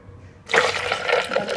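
Milk pours into a coffee mixture for cold coffee, a sudden steady splashing gush of liquid that starts after a short pause and runs loud and continuous to the end.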